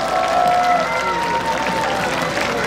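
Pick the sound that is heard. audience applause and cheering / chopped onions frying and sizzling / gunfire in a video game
audience applause and cheering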